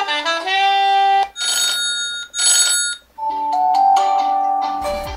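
A Huawei Honor 6X smartphone runs through ringtone samples, playing several short electronic melodies one after another with brief gaps and bright tonal chimes. The sound is close and fairly loud, with no talking.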